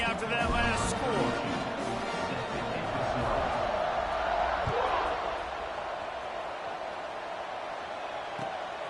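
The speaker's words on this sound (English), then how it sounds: "this crowd is buzzing after that last score" Football stadium crowd at Georgia vs LSU buzzing after a score, a dense, steady roar of many voices with scattered shouts and thuds, loud early and easing slightly toward the end.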